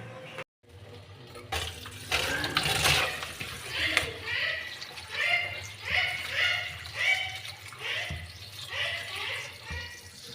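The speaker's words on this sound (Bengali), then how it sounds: "এগুলো ভালো করে ধুয়ে পরিষ্কার করে নিতে হবে।" Raw chicken gizzards are rinsed and scrubbed clean in water, with splashing and sloshing in repeated bursts at close range, a voice speaking faintly underneath.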